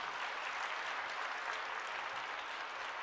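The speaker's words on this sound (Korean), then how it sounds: "우리 박수로 환영하도록 하겠습니다" A church congregation applauds to welcome a pastor at a Friday evening service, a steady, fairly soft blur of many hands clapping without a break.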